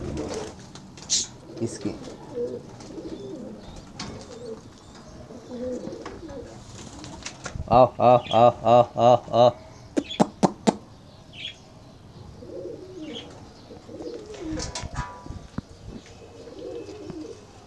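Pigeons coo in a short run of rhythmic, throaty calls near the middle, set against scattered chirps and knocks, with someone talking before and after.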